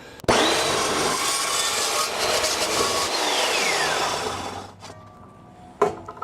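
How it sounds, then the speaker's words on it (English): A miter saw slices a miter cut through welded metal scrap stock, a loud continuous grinding whine lasting about four seconds before winding down, followed by a single sharp clank near the end. "So that's why I'm cutting my miter here."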